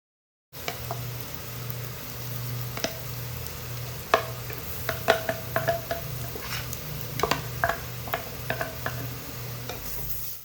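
Crushed ginger and garlic sautéing in a pan for Kerala-style beef curry, a low continuous sizzle broken by frequent sharp spoon scrapes and clinks against the metal, close and unvoiced.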